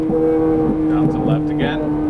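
A Ferrari F430 Scuderia accelerates on the Las Vegas Speedway track, giving a steady, loud engine drone with a rising tone, heard close up while someone talks over it.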